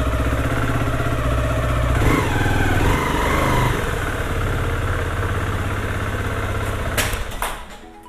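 A Beta Zontes T310 motorcycle engine idles close by, a steady loud low thrumming that runs throughout and fades a little near the end.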